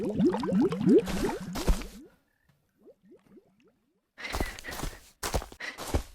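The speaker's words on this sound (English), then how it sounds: "It's pretty obvious that those footsteps are way too loud, right?" Footstep sound effects in a Unity game built with FMOD, mixed far too loud: a quick run of squishy, rhythmic steps that drops to fainter steps, then returns as louder, heavier thuds, with no talking.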